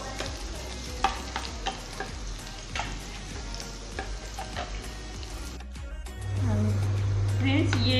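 Ginger and garlic pieces fry in ghee with a busy crackling sizzle and scraping stirs, and a voice speaks over it. A low hum rises near the end.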